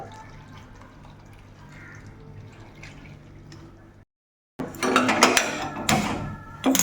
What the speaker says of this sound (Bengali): আর এখন দিয়ে দিতে হবে কিন্তু সিদ্ধ হওয়ার জন্য খানিকটা জল।